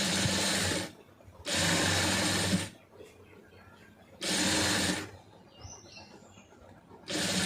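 A tailoring sewing machine stitches a large sleeve in four loud, sharp bursts separated by short pauses, with a faint bird chirp in one gap.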